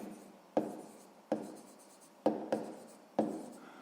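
Pen strokes scratching across paper while a math problem is worked out, five sharp onsets each trailing off into a soft rubbing scrawl, close and quiet with no talk.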